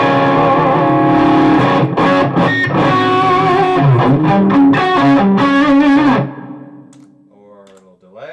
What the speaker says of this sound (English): I add a little reverb.